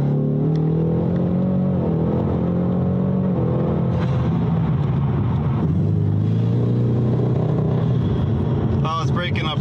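A car's engine drones steadily under load while driving, its pitch wavering and stumbling as it sputters and breaks up, close and constant throughout, with a person talking over it.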